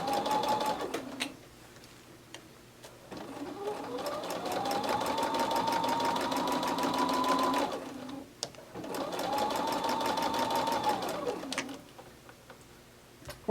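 A sewing machine stitching piping on a purse handle, two long steady whirring runs close by with a brief ramp up, separated by pauses and soft handling clicks, no voices.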